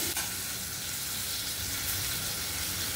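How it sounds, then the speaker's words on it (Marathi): Okra and green chili sautéed in a pan with turmeric, ginger-garlic paste and curry leaves: a loud, continuous close-up sizzle of frying throughout, with no talking. "हिरवी मिरची, चांगलं परतून घ्यायचं"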